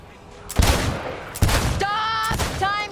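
Cyberpunk 2077 timed shooting range: two loud, close bursts of rapid gunfire, each lasting under a second, followed by ringing electronic tones.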